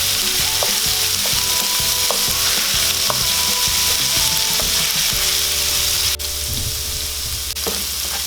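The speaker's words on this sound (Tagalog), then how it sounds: "halu-haluin lang natin hanggang sa bumango po yung ating luya" Ginger sautés in a pan while being stirred, giving a loud, continuous sizzle and crackle with occasional scraping from the stirring, close up and with no voices.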